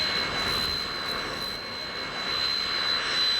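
Led Zeppelin's private jet waiting at an airport gives off a steady, loud turbine roar with a thin high whine running through it, unbroken throughout.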